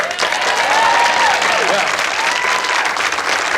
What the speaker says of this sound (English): I don't got time for the laughing and the clapping thing.